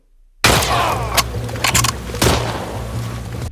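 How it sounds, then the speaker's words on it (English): Gunfire in the video game The Last of Us Part 2: a burst of loud, sharp gunshots erupts after a brief silence, followed by a few more cracking shots with ringing tails and low rumble, no speech. "the sound of the shooting and reloading feels satisfying to hear"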